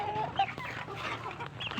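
Backyard chickens and chicks cluck and peep softly in a brief, faint burst of farmyard sound, with no talking.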